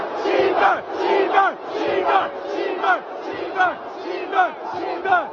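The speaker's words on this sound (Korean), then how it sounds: "중국 팬들은 경기장에서 일제히 시바 손흥민을 외쳤다" Chinese football fans chant in unison in a stadium, a large crowd shouting rhythmic rising and falling calls in repeated waves, loud and continuous.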